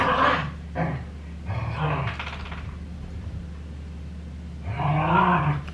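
A dog growls and grumbles in bursts while playing roughly with sofa cushions indoors, the low rumbling growls coming close and moderately loud with short pauses between them.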